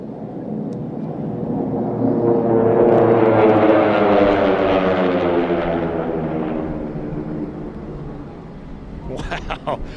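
T-6 propeller airplanes racing in an air race heat roar past, building from a distance to a loud pass with a falling pitch, then fading away; a voice briefly at the end.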